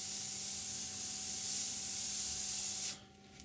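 An airbrush sprays paint at lowered air pressure, about 20 psi, giving a steady, close, even hiss that runs for about three seconds before cutting off abruptly, with a faint hum underneath.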